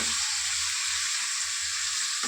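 Beans frying in a pan give a dense, constant sizzling hiss, close and steady throughout, with no voices.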